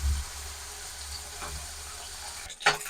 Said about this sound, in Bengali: মাছগুলো ভালোভাবে লাল লাল করে ভাজা হয়ে গেছে